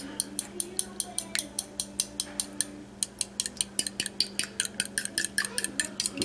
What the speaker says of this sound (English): Make sure you whisk up all the eggs good